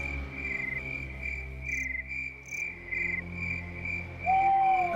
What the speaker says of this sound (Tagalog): at sari-saring huni ng insekto ng gabi ang dumadaan na tunog sa kanyang tenga